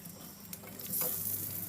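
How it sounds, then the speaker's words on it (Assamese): Whole spices sizzling and frying in a little oil in a kadai already used for tomatoes and onions, a soft steady crackle with faint stirring scrapes, quiet and close. "এনেকৈ ভাজি লৈছোঁ"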